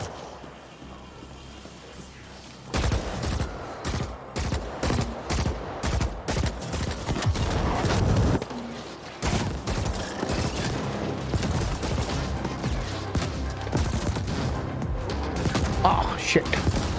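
Rapid turret gunfire from robots and turrets in the video game Ascenders, a dense rattling barrage that breaks out abruptly and continues steadily, with a voice talking over it.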